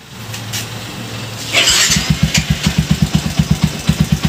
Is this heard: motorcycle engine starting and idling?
yes